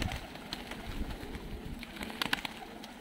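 Georgian tumbler pigeons in a sunny courtyard in Tbilisi give soft cooing calls amid scattered rustles and faint wing flutters, against steady outdoor background noise.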